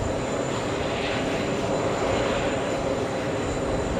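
A jet airliner taxiing to the gates at JFK Airport in New York on a hot summer day: a steady, loud engine roar with a constant whine, heard close and continuous throughout.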